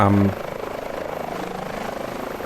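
An H145 helicopter in Microsoft Flight Simulator gives a steady, rhythmic rotor thrum, loud and continuous after a short louder sound at the start.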